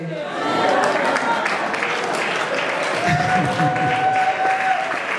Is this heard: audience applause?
yes